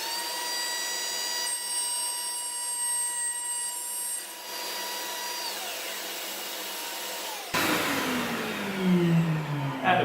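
A router cuts a long groove through pegboard in a workshop, a steady loud high-pitched whine with harmonics that shifts pitch partway, then breaks into a rougher, louder cutting roar near the end, with no talking.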